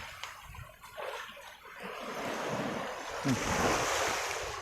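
Sea waves roll and wash in open water, a broad rushing surf that swells louder through the middle and end, mixed with wind buffeting the microphone, fairly faint and with no clear talk.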